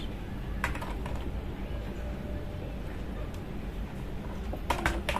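Keys on a computer keyboard are tapped in a few short clusters of light clicks, heard close over a steady low background hum.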